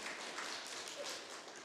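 A church congregation applauding: soft, sustained, even clapping from many hands, heard from a distance and without any pauses.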